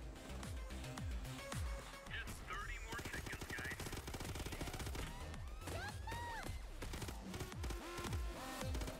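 Minigun-wielding dozer enemies in a video game unleash sustained bursts of rapid machine-gun fire, dense and continuous across the clip, mixed with game music, effects and shouting.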